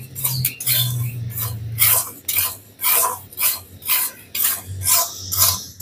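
Puffed rice (muri) is stirred and fried in a kadai without sand, a rhythmic series of dry scraping, rustling strokes, close and fairly loud, with a low stove hum beneath.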